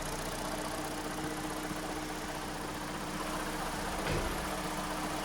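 A Hyundai G4NA car engine, worn and knocking after long driving with scored internals, idles steadily with a continuous mechanical drone and a brief louder bump near the end.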